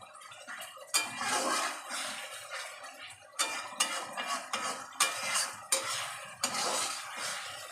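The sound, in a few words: stirring and frying masala in a pan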